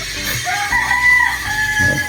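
Free-range chickens, including laying hens, clucking and crowing nearby, loud and continuous over a short stretch with no talking.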